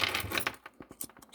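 Metal Allen keys and spanners clink and jangle as they are handled beside a Vevor 3018 Pro mini CNC machine, a flurry of rustling at first, then a handful of separate close, light metallic taps.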